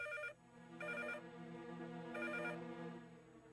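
A telephone rings indoors in a cartoon scene, three separate bursts of an electronic trill, with quiet gaps between them and no voices.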